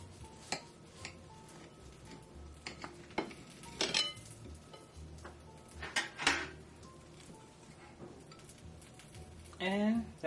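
A knife cuts through a sausage, egg and biscuit on a plate, giving scattered clinks and scrapes of cutlery against the dish, with a voice speaking intermittently over the kitchen noise.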